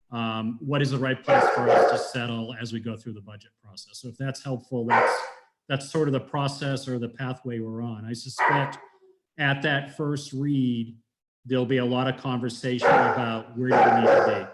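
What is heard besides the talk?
dog barking in the background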